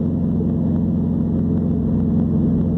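A Saab 9-2X with a WRX aftermarket exhaust drones steadily at about 2,500 RPM and 60 mph on the highway, constant and low with a slight buzzing texture, with road noise underneath.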